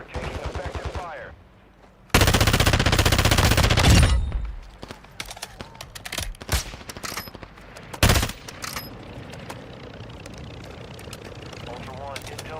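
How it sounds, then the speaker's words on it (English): Automatic gunfire in the video game Call of Duty DMZ: a loud sustained burst of machine-gun fire, then scattered shots and a second short burst, with game sounds and voice chatter in between. "You are taking effective fire."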